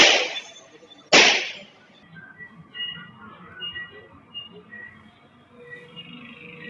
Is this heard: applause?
no